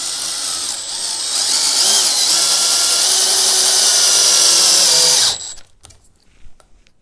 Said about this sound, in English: let's try out these 3-inch construction screws